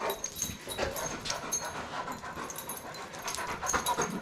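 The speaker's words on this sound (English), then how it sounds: "Guys, look at all these dogs." Steady, breathy panting from dogs runs throughout, with a few faint whimpers mixed in, close by and moderately loud.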